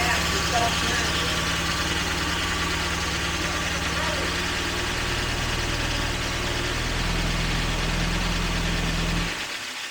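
A 1977 V12 coupe engine, revived after sitting for 42 years with noisy injectors, idles steadily and loudly up close with a low droning rumble, then cuts off abruptly near the end.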